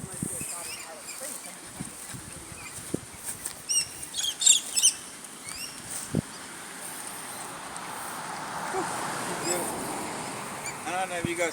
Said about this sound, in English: the birds are always chirping out here too